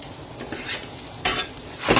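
Garlic sizzles in hot oil in a pan, with short scraping stirs and a couple of brighter bursts of frying crackle across a brief stretch, no talking.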